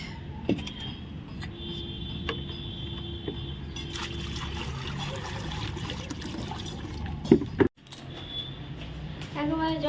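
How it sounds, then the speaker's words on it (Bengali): Water poured onto potted plants gives a steady, close splashing trickle that runs almost without pause, breaking off briefly near the end before resuming. "জলটাও দিয়ে দিলাম একটু গাছে"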